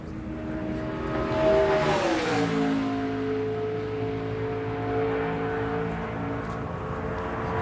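A NASCAR stock car on a qualifying lap at the 2004 Sam's Town 300 roars past. A loud engine note swells, then drops in pitch as the car goes by, and the sustained roar of the running engine follows.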